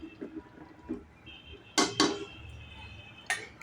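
A lid is set on a metal cooking pot of palak paneer gravy, with a couple of light clinks followed by a louder double metallic clatter and a final clink, close by and without speech.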